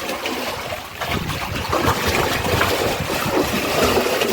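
Water drains out of a storage tank during heavy rain, making a continuous loud rushing trickle with splashy texture that holds steady throughout.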